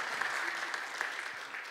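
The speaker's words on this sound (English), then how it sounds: "Warm applause, please." Audience applause at a startup demo day, a steady patter of clapping from a seated crowd that fades slightly over a couple of seconds.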